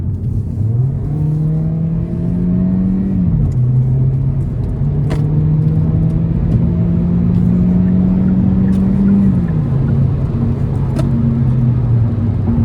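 A 2026 Hyundai Elantra Hybrid SEL Sport in sport mode pulls hard on the interstate, its engine droning loud and steady with rising pitch sweeps as it shifts, over constant road and wind roar.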